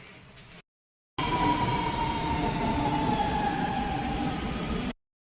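A metro train rumbles steadily along the track with a loud, continuous roar and a faint high whine, after a short gap of near silence.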